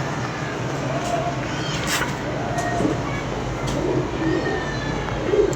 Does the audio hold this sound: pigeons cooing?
yes